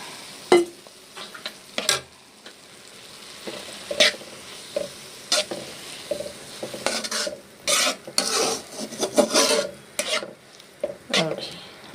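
Drumstick leaves and egg frying in a pan, a soft sizzle beneath repeated scraping and clinking of a spatula stirring against the metal.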